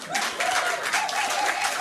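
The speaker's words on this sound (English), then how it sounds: "Give him a round of applause." Brief applause from a crowd of quiz teams at a trivia night in a bar called The Yard, a short burst of clapping with a voice running over it.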